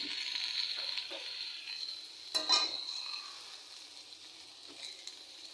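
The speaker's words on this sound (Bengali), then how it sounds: "তো আমি এটা ভাজি করতেছি" Snake gourd and chopped onion frying in a pan, a faint, soft sizzle with occasional light stirring scrapes and one brief louder clatter midway.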